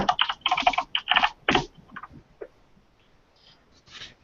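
Typing on a mechanical computer keyboard, a quick clattering run of close keystrokes that thins into a few scattered clicks and near silence.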